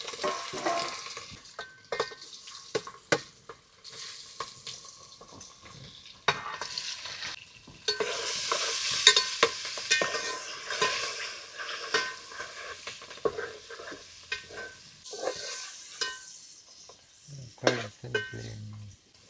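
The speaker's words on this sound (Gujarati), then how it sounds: "આમાં ગુંદાને વઘાર કરવા નાખી દેવી ગુંદા" Gunda (glue berries) fry in oil tempered with mustard seeds, cumin and asafoetida as a spoon stirs them around the pan, a steady sizzle broken by repeated scraping and clatter against the metal, close and without speech.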